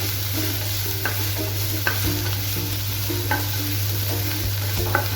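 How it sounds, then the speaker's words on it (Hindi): Chopped ginger and green chilli being stirred lightly in a hot pan, a soft steady sizzle with a few light utensil taps against the pan, close and without speech, over a low constant hum. "अब मैं डालूंगी इसके अंदर अदरक चॉप किया हुआ एंड ग्रीन चिली। एंड हम इसको हल्का सा स्टर देंगे"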